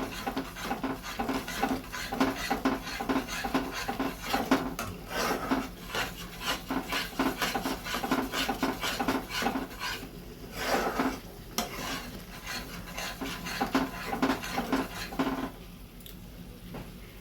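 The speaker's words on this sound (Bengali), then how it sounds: "এটা ভালো করে নাড়তে থাকো।" Spice masala being stirred in a pan while cooking jackfruit kalia, a steady rasping, scraping rhythm of a utensil against the pan with faint sizzle, close and continuous throughout with no talking.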